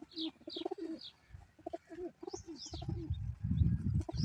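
Pigeons coo in soft, repeated rolling calls, close by, with faint chirps mixed in and a low rumbling rustle building toward the end, no talking.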